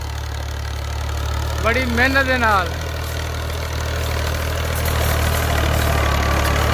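A tractor engine works a field in a Punjab village in Pakistan, giving a steady, low idling drone throughout, with a short burst of speech over it early on.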